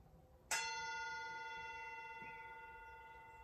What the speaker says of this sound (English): And so when the gong goes, rolling yourself up.